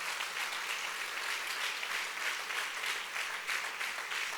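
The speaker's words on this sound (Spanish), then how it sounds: "Dale un aplauso fuerte al Rey de Gloria." A church congregation claps steadily and enthusiastically during a worship service, a dense, sustained wash of applause with a slight rhythmic pulse and no talking.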